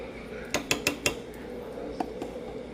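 Spoon clinking against a mortar as two tablespoons of minced garlic go in, four quick sharp taps in a row followed by a couple of softer knocks, close and clear with no talking.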